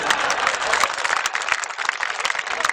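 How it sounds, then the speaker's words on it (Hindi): Steady audience applause, dense and continuous clapping from a crowd, loud throughout. "तालियां अगली बात पर आपकी उठें।"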